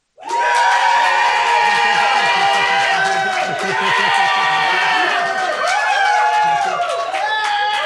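A crowd votes for the eagle at a debate by cheering, with loud whoops, shouts and hollers over clapping, sustained for several seconds after a sudden start.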